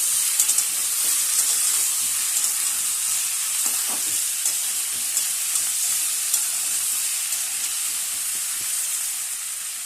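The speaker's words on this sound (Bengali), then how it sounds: "আর একটু ঘি দিয়ে দেবো। ভালো করে ভেজে নিতে হবে সবজিগুলো।" Vegetables fry in ghee for a vegetarian pulao, giving a loud, bright, continuous sizzle close by. Faint stirring scrapes come through now and then, with no voices.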